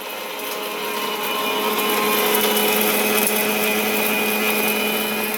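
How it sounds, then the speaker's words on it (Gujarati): Kitchen mixer grinder grinding ingredients, a loud continuous motor whine with steady tonal hum that swells slightly and holds close and alone throughout. "મિક્સરમાં બધું પહેલાં દળી લેવાનું એમ"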